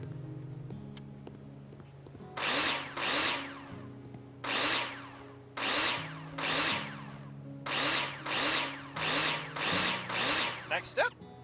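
Power drill in the Builder Simulator video game driving screws: repeated bursts of high whirring, each about a second long, in rhythmic sequence over a low background hum, with a short rattling cluster at the end.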